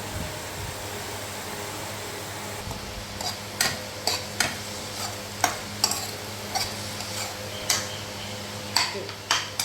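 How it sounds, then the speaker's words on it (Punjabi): Onion roasts in a pan with a soft, continuous sizzle, punctuated by regular light clicks and scrapes of a spatula stirring against the metal. "ਪਿਆਜ਼ ਨੂੰ ਜਿਹੜਾ ਚੰਗੀ ਤਰ੍ਹਾਂ ਭੁੰਨ ਲਾਂਗੇ ਪਹਿਲਾਂ"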